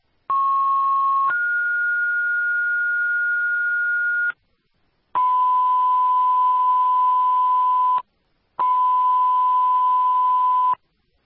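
Three long electronic dispatch paging tones in sequence for a second-alarm house fire in Putney, Vermont, the first stepping up in pitch, separated by short silences; loud, clean and sustained.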